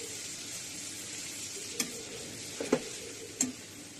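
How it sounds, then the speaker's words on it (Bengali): Caramel mixed with milk is stirred in a pan over low heat; a faint, quiet simmer hiss carries a few soft spoon clinks and scrapes near the end, with no talking. "অল্প অল্প দুধ দিয়ে নাড়াচাড়া করে দুধের সঙ্গে ক্যারামেলটা মিশিয়ে নিচ্ছি"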